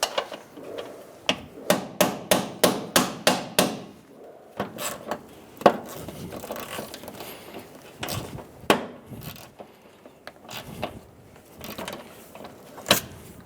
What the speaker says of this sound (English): I'll hammer it on and try and twist this off.